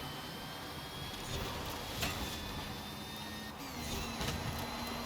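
A supervan engine in Forza Horizon 5 drones and whines as it accelerates in second gear, a steady close roar with tones that rise, then shift at a gear change.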